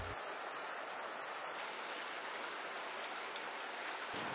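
A river flowing out of Lake Maninjau in West Sumatra, Indonesia, gives a steady, even rush of water that fills the whole clip without a break and with no voices.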